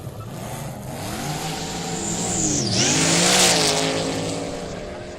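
A Nissan Z32 with independent rear suspension launches at a quick street drag racing day at Kooralbyn Valley, its engine revving hard and rising in pitch as it accelerates past, loud and sweeping with a brief tire chirp.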